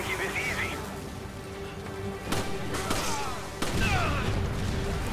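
Explosions in Resident Evil 5 at the docks burst out in a few loud, scattered thuds and blasts over game ambience, with someone talking over the action.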